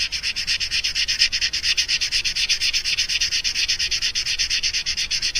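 A fishing lure rubbed with 600 grit sandpaper makes close, rhythmic scratchy strokes, rapid and even, repeating back and forth without pause.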